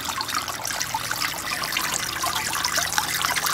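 Water circulates steadily in a fine gold recovery bowl, a continuous close trickling and swishing wash with an even level throughout and no voices.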